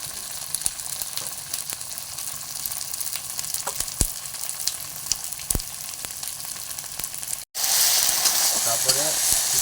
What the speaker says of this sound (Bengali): তারপরে কিছুক্ষণ ধরে নাড়তে হবে, মশলাটাকে ভালোভাবে ভেজে নিতে হবে